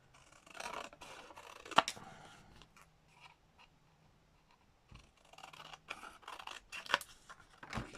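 Scissors snip and cut through card and paper in a papercraft session, with two sharp clicks of the blades and soft rasping strokes. Close and quiet, with no talk.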